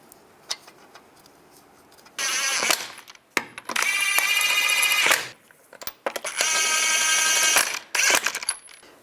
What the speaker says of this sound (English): put the lug nuts on